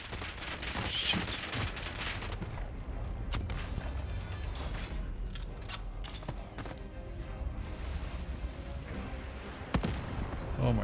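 Rapid gunfire in the Warzone video game, firing in a dense continuous clatter with mechanical clicks and a sharp report near the end, with no talking.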